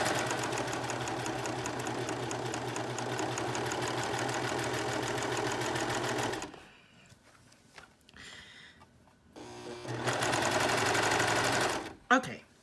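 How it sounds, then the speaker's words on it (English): A serger runs along the curved side seam of a shirt, a loud, steady high-speed whir for several seconds, then a pause with handling noises before a second burst. "So I'm just going to start serging along there."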